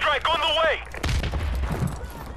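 An explosion bursts into a shower of presents on the Winter Crash map in Modern Warfare Remastered, a sharp boom with a noisy, rumbling tail after a stretch of musical tones.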